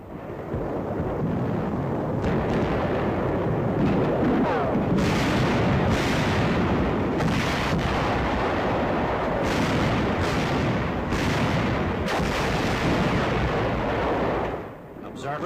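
WW2 US Army howitzer battery fire on Iwo Jima, loud, dense rumbling booms rolling one after another with several sharper blasts over a continuous roar.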